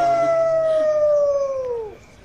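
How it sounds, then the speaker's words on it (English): A werewolf beast in a movie lets out a single long, loud howl that slides slowly downward in pitch and cuts off after about two seconds. "the beast appears atop the highest peak in town and howls his"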